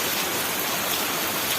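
Heavy rain pours down in a village, a dense, steady hiss of drops hitting surfaces, loud and continuous with no voices.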